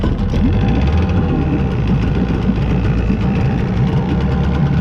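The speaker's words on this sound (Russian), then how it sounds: "русский мотор Вихря не так-то просто и дергать еще" An old Soviet Vikhr outboard motor idles in neutral. It keeps up a loud, close, steady rough putter that runs unbroken for the whole stretch.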